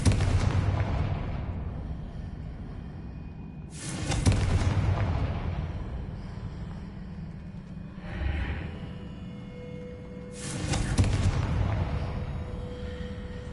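Fiery Confringo spell blasts in the Hogwarts Legacy video game, three heavy booming explosions with sharp onsets roughly every few seconds, each decaying into a rumbling tail, alone without talk.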